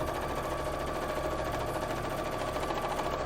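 A sewing machine stitches a dress lining for an Emilia cosplay costume, a quiet, rapid whirring rattle that holds steady throughout with no pauses or speech.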